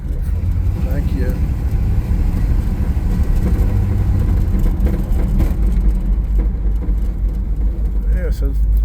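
A 1955 Chevrolet Bel Air two-door hardtop driving, its engine a steady loud rumble throughout from inside the car, with someone talking over it.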